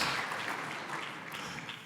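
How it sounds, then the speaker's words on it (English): Light, diffuse applause from diners at a natural resources banquet, a soft scattered patter of clapping heard from a distance in a large room that fades slightly toward the end. "I knew I'd get a clap there"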